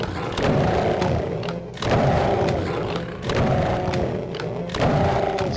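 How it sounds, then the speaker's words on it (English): A double-barrel shotgun firing in DOOM, four heavy booming blasts at steady intervals of about a second and a half, each followed by a short rumbling tail, loud and close, with no speech. "Just mow them down with our double barrel shotgun."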